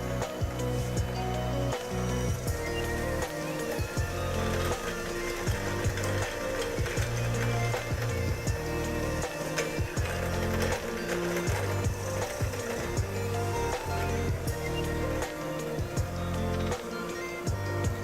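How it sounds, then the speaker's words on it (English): Hand mixer beating butter for ube cookies, a steady, loud mechanical whir that runs continuously with uneven rattling and clatter of the beaters against the bowl. "it is a bit messy with a hand mixer"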